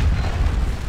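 Artillery fire in the Napoleonic battle game Scourge of War Waterloo, a loud deep rumbling boom that fills the whole moment.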